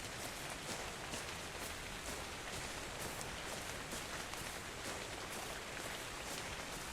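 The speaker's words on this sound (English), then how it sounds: "It's indeed raining." Rain falls in Ark Survival Evolved, a soft, even hiss of drops that continues steadily throughout without voices.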